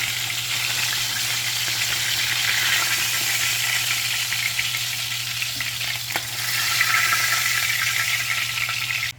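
Fried fish is lifted out of hot oil into a tray while making Jamaican brown stew fish; the oil keeps up a steady, close sizzle with one faint click partway through.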